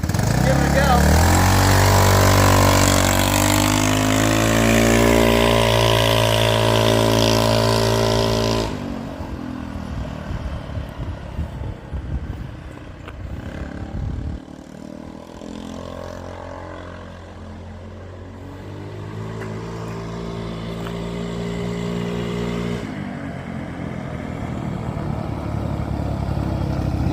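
A Hammerhead GTS 150 with a swapped-in engine runs loudly close by. It holds a steady drone, dips into rougher, lower idling in the middle and then revs back up.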